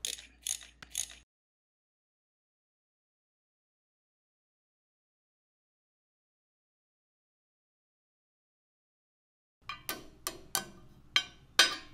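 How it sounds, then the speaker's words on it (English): A ratchet fitted with a T27 bit works screws loose from the clutch inspection cover of a Harley-Davidson Road Glide, giving short bursts of close mechanical clicking at the start, then a long silence, then several sharp clicks near the end. "I'll use my ratchet with a T27 tool and simply remove the"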